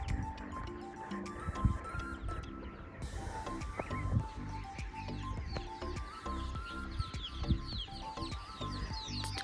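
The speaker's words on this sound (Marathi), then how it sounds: "कोकिळ चिमण्यांचा किलबिलाट चालू आहे सकाळ सकाळ." Morning birdsong with cuckoo and sparrow chirping, a mix of repeated tonal calls and busy twittering at moderate distance, faint and steady throughout with no clear talking.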